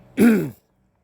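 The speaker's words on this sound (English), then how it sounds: "I'm going to be clearing my throat" One short, close throat clearing, a rough guttural rasp lasting about half a second, followed by silence.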